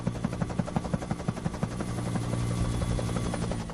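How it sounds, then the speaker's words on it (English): Harold the helicopter from Thomas & Friends flying, a rapid rhythmic thudding of rotor blades over a low engine hum, moderately near and steady, with no talk. "It's Harold the helicopter."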